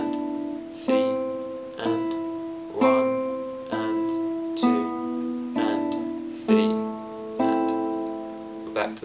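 An acoustic guitar plays a short picked phrase from Ferrer's Allegretto Moderato, evenly spaced notes and double stops ringing out one after another, close and clear, no talking.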